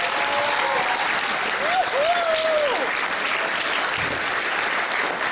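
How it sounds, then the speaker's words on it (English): An audience gives a big round of applause, a dense, steady clatter of clapping that holds at an even level throughout, with a short whistle-like tone rising briefly partway through. "Give yourself a big round of applause right now."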